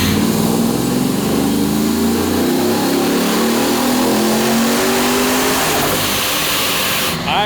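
A supercharged work van engine revs hard on a dynamometer, a loud, sustained rising roar that climbs steadily in pitch through the pull, then cuts off abruptly near the end.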